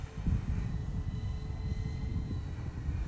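An Eachine Airloader/Bushloader twin-motor RC plane (1280mm foam) makes a low, slow pass, its electric motors giving a steady, fairly close drone that holds level without a break.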